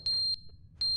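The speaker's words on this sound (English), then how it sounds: "Incessant beeping." Electronic beeps repeat in the video game The Stanley Parable: Ultra Deluxe, a steady high tone sounding in short bursts with a gap between them, loud and clear with no voices.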